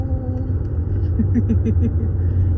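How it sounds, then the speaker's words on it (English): Standstill road traffic heard from inside a car, a steady low engine and road rumble with faint passing vehicle noise, fairly close and continuous throughout. "Stand still traffic."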